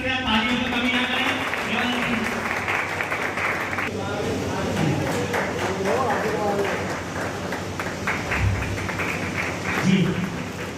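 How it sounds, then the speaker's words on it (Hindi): Audience applause at a Vaishya Mahasammelan youth conference, sustained clapping from a crowd in a hall, with a voice over a loudspeaker blending in. "आपसे आग्रह है कि कृपया तालियों में कमी न करें।"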